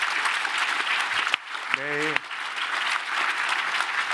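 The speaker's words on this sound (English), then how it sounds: "please give a round of applause to our 5 panelists" Audience applause for panelists at a financial conference panel discussion, steady and full throughout, with a brief voice breaking through in the middle.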